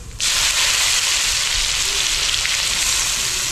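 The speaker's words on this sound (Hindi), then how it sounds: "बढ़िया सा भून लेते हैं अदरक लहसुन के" Loud, steady sizzling of ginger garlic paste frying in hot oil with cumin, starting abruptly and crackling continuously without pause; no voices.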